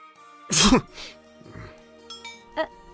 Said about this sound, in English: I'm okay. I just sneezed a little.